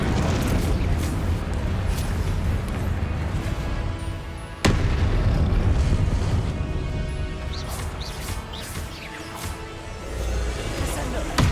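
Fire-spell explosions in the Hogwarts Legacy video game, a sharp loud blast at the midpoint followed by booming, crackling bursts and rumbling impacts, with game music and effects layered throughout.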